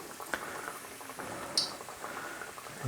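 Pieces of chicken fry in hot oil, a soft, steady bubbling and crackle with a few faint pops, quiet and close, with no voices.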